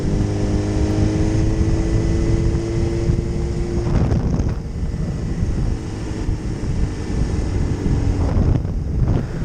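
A motorcycle ride with heavy wind buffeting the microphone, a steady roaring rush over a low engine drone, with a faint rising whine early on and a few gusty swells, continuous and loud.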